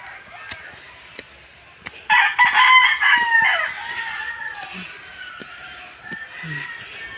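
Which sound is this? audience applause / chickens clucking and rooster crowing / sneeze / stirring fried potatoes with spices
chickens clucking and rooster crowing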